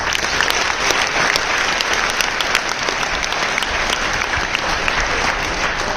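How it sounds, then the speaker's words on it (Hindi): A school audience in a courtyard gives a sustained, dense round of loud applause, with crowd clapping continuing steadily throughout. "आप अपने लिए जोरदार तालियां बजा सकते हैं।"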